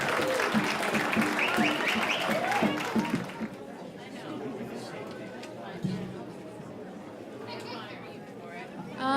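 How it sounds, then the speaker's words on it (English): An audience at a school naming ceremony applauds students as they arrive, with loud clapping mixed with crowd chatter that fades after a few seconds into murmuring and a few scattered claps. "Let's give the students a round of applause as they come."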